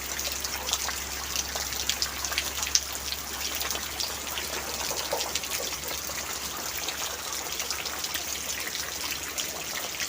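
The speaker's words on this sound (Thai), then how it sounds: "วันนี้ทางใต้ที่จังหวัดยะลาฝนตกหนักค่ะทุกคน" Steady, dense rain hissing and pattering continuously on durian trees in Yala, southern Thailand, with drips and trickling water throughout and no voices.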